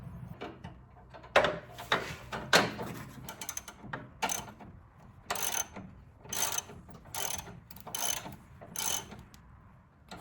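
Ratchet wrench clicking in repeated short bursts while adjusting the deck level on a Kubota BX2360 compact tractor mower, close and fairly loud with brief pauses between runs.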